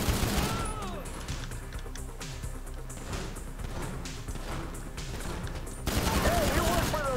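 An AP pistol fires in the GTA V video game in rapid, repeated shots that crackle almost continuously. A brief voice and more intense firing come near the end.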